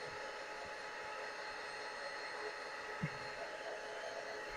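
A heat gun blows steadily while heating a sublimation tumbler, a constant whooshing airflow hiss filling the whole stretch at moderate level with only faint small knocks underneath.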